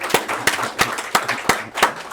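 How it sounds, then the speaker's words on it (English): A classroom of high-school calculus students claps for a visitor in a slow, unison rhythm of about seven sharp, loud beats spaced evenly apart, with no talking over them. "we're going to give a big round of applause to a visitor to the classroom"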